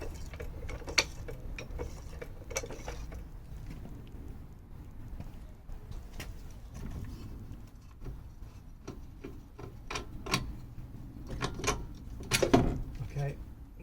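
A car jack raises a Fiat 500 slightly during front strut replacement, giving soft mechanical clicks and ratcheting rubs, with a few sharper knocks near the end over a low workshop background.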